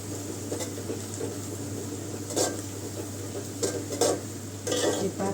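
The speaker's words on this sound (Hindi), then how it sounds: "प्याज अच्छी तरीके से ब्राउन हो जाएगा" Onions fry in a pan with a soft, steady sizzle while a spoon stirs and scrapes against the metal in several short bursts, close and fairly quiet.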